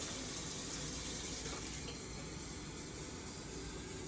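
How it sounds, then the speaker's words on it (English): Water running steadily from a kitchen sink faucet, a constant broadband splash and hiss filling the whole span without pause, fairly faint. "and we're going to grab some water."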